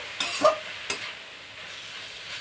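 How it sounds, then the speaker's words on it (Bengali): Chopped banana flower is stir-fried in a pan over a high gas flame, a continuous close sizzle broken by a few quick scraping stirs of the spatula near the start, with no speech. "নাড়িয়ে চালিয়ে নেব। দেখুন আমার এটা ভাজা ভাজা হয়ে এসছে।"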